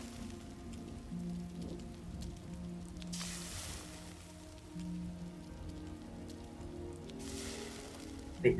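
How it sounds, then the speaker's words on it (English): Steady rain falls in the Enshrouded game world, a constant soft patter with a few swells in intensity, heard alone with no talk. "Waiting for this rain to let up."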